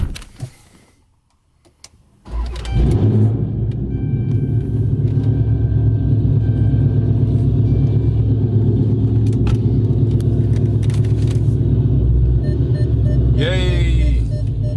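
A car starts and then backs up while a backup camera is being tested: after near silence, the engine catches and settles into a loud, steady idle rumble, with a brief whirring sound near the end.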